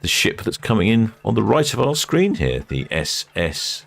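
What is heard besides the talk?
No everyday noises stand out.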